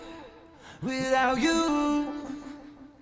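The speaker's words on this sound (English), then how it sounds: "because it sort of has that heavy auto-tune sound on there. It sounds very robotic." A short sung vocal phrase with heavy auto-tune giving a hard, stepped pitch correction and a synthetic, robotic quality.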